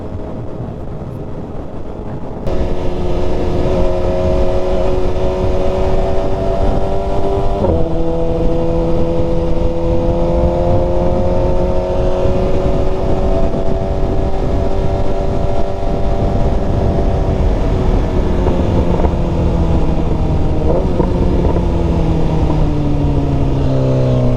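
A Stage 2 BMW S1000RR sportbike running E85 pulls hard through the gears on a top speed run, its loud close engine note climbing in pitch with brief drops at each shift, steady and uninterrupted with no talk.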